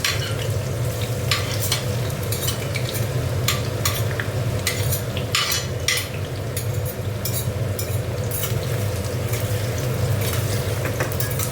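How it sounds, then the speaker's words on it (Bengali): Chopped onion frying in a pan for ghugni: a steady, loud sizzle throughout, broken by frequent scraping and clinking strokes of a spoon stirring against the pan. "দেখো এবার পেঁয়াজ কুচিটা দিয়ে দিচ্ছি।"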